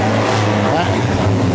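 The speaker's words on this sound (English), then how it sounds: "And revs are rising, and they're racing." Street stock race car engines rev together at the start of a heat, a steady loud broadband drone with rising pitch, and a voice talks over it throughout.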